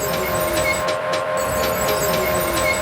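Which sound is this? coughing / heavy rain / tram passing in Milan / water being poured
tram passing in Milan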